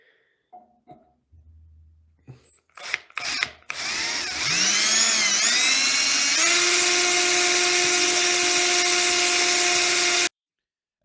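A few sharp knocks, then a power drill whines up and runs at a steady high pitch for several seconds before stopping abruptly.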